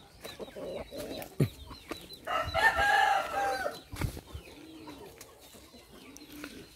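A Tích Phật Hầu Bò rooster lets out one drawn-out crow midway, fairly close and clear, among scattered sharp clucks and bird calls.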